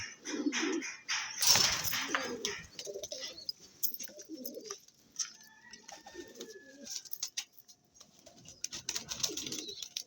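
Racing pigeons in a fancier's loft give repeated soft, low coos in short bursts, with a few chirps and a brief rustle of wings. The sound is close and fairly quiet, and no one talks.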